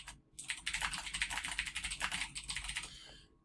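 Fingers type on a computer keyboard in a quick, dense run of close, crisp key clicks lasting about three seconds, then stop.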